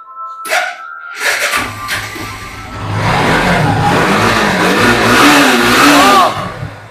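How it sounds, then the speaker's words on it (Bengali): A motorcycle engine at a bike showroom, first short blips of the throttle, then a louder sustained rev that rises and falls close by, with a voice in the background. "দারুন দারুন ইঞ্জিন, দারুন ইঞ্জিন"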